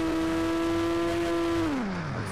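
A car engine in the mobile game Indian Bike Driving 3D holds a steady droning rev, then the pitch drops away as it winds down, heard alone at moderate loudness.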